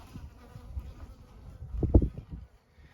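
Honey bees buzz around an open hive during a late winter inspection, a low droning hum close by that swells briefly into a louder burst before fading.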